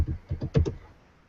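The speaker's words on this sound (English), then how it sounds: "Oh, somebody's typing on the keyboard." Typing on a keyboard: a short run of soft key clicks in small clusters, close and fairly quiet, fading to near silence after the last few taps.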